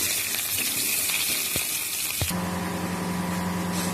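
Pointed gourd (potol) frying in hot oil for a prawn curry gives a steady, close sizzle that runs throughout with a few faint clinks, then the hiss shifts and quiets partway through.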